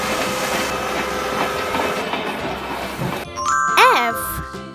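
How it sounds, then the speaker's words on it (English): An engine train rolls along with loud rhythmic clickety-clack, then a bright ding-dong chime rings out; a voice speaks over the start. "E for engine train."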